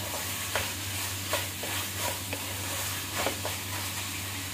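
Capsicum fries in a pan for chicken macaroni, a soft continuous sizzle with a low steady hum underneath and several light stirring scrapes spaced through it, heard close and alone.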